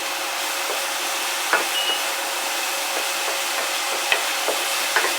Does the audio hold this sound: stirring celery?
yes